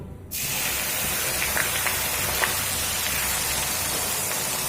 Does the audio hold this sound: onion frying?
yes